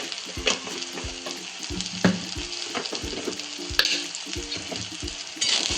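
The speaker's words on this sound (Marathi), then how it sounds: "चांगले तेलात परतून घ्यायचे।" Spices and sprouted moong beans frying in hot oil, a steady close sizzle broken by the scrape and clatter of stirring in the pan, with no voices.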